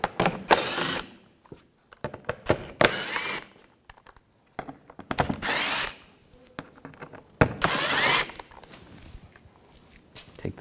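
Screws come out of a 2011-2018 Volkswagen Jetta TDI wagon with a T25 socket on a ratchet, giving several short bursts of rapid clicking separated by pauses, with faint metallic clinks between them.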